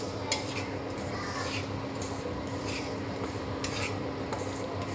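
Rice flour roasts in a pan while a utensil stirs it, giving quiet repeated scraping and rubbing strokes over a faint steady background hum.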